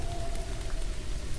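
Steady, close rain falls in the video game The Moon Sliver, an unbroken wash of drops with a low rumbling undertone and no speech.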